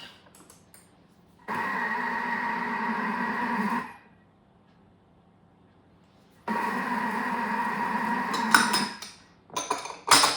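Thermomix kneading fruit scone dough, two loud mechanical whirring bursts a few seconds apart with quiet gaps between, followed by clattering knocks at the end.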